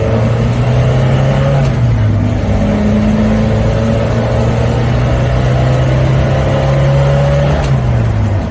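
A Suzuki Samurai engine held high in its upper rev range, a loud, close, continuous drone that dips briefly as gears shift, then climbs steadily again.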